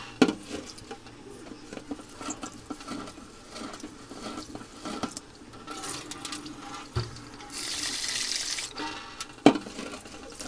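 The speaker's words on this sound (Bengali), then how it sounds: "ডালটাকে আমি সুন্দর করে ধুয়ে নিয়েছি অনেকবার করে যতক্ষণ না সাদা পানি বের হয়েছে" Water runs steadily from a tap and splashes into a sink while lentils are rinsed, with brief clinks and a louder gush near the end.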